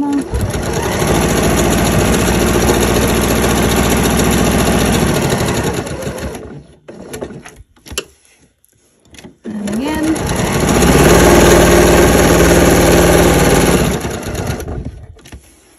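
A sewing machine stitches around the edges of fabric for a jar opener, running in two long steady whirring bursts with a brief pause between, close and loud.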